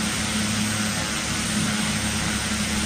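Steady, continuous drone of a single-engine turboprop PC-12 cruising at about 7,000 feet in an FSX flight simulator, a constant loud hum with a strong low tone and no talk.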